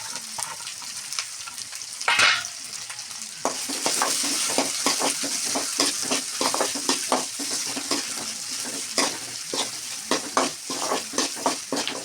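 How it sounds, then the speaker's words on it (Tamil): Curry leaves and medium-sized onions sautéing in a pan for a garlic-pepper kuzhambu, with a steady hiss of frying, a brief louder burst of sizzle early on, then repeated scraping stirs in a regular rhythm. No one speaks. "கருவேப்பிலை இதெல்லாமே போட்டு நல்லா வதக்கணும்"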